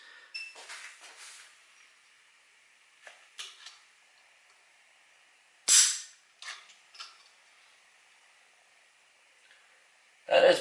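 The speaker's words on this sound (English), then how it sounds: "Let's go ahead and do a trigger pull on that and see how it pulls." Dry-fire trigger pulls on an AR-15 fitted with a single-stage drop-in velocity trigger, a few sharp close metallic clicks and snaps spread over a quiet background, no speech.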